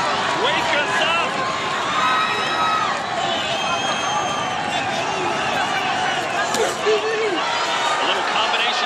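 Boxing arena crowd at the Canelo Alvarez vs William Scull fight, a busy wash of shouts and calls rising and falling, with a commentator talking over it.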